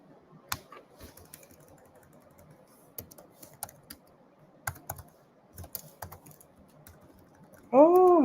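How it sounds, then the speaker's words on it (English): Someone types hard on a computer keyboard, producing loud, irregular clusters of sharp key clicks close by, followed at the end by a short electronic tone. "Am I typing hard?"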